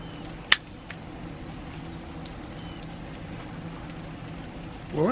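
Rain falling on outdoor surfaces, a faint steady patter running throughout, broken by one sharp click early on and a brief voice at the very end.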